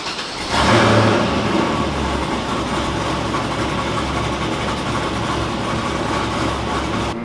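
An LS-swapped Hyundai Genesis engine starts with a brief rise in revs, then settles into a steady, loud, rumbling idle that runs close and uninterrupted.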